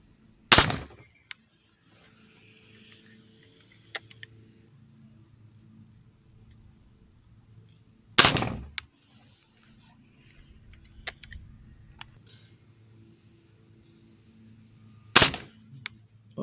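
A Kandar B2-4 air rifle with open sights fires three sharp, loud, close shots spaced several seconds apart, with faint handling noise between them and no talking.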